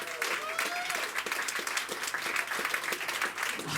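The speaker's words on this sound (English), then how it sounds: "Can I get a round of applause for that?" Comedy show audience breaking into applause, a thick continuous wash of clapping from a room full of people, with voices faintly underneath.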